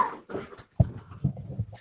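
A dog whimpers in short, separate bursts with brief gaps between them, fairly near but soft, with no talk over it.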